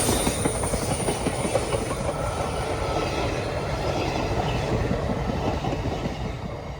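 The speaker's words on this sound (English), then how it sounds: "22931 Busawal WAP4 calling the 11006 Puducherry Dadar Express, route diverted via Kolar" A WAP4 electric locomotive hauls the Puducherry Dadar Express past at close range, a loud, continuous rumble of rolling wheels with rhythmic clickety-clack over rail joints and no voices.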